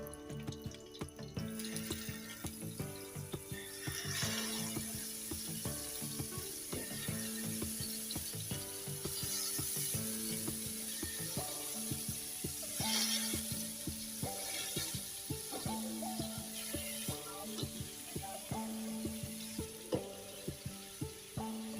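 Chicken pieces sizzling in a tablespoon of hot oil with half a teaspoon of cumin over high heat, for BBQ chicken biryani: a steady, close frying hiss with occasional utensil clinks, no talking.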